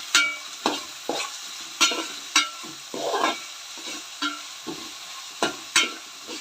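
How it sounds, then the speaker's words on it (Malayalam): A spoon stirs onions frying with salt in a pan for a toddy-shop style country chicken roast, giving repeated scraping knocks at an irregular rhythm over a soft steady sizzle, close and fairly quiet. "അതിന് ശേഷം ഒന്ന് നമുക്ക് നന്നായിട്ട് ഇതൊന്ന് ഇളക്കി കൊടുക്കാം"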